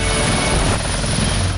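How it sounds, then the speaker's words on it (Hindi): A helicopter flying between Lucknow and Allahabad gives a loud, steady, dense rotor and engine roar that holds unbroken throughout with no voices. "नेताजी बाकायदा हेलीकॉप्टर से आए, वो भी एक नहीं दो हेलीकॉप्टर"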